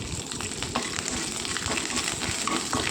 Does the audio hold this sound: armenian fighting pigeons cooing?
no